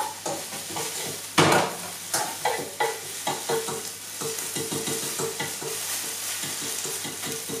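Onions caramelize in a frying pan, a steady close sizzle broken by rhythmic stirring and scraping strokes, with one louder clatter near the start and no talking.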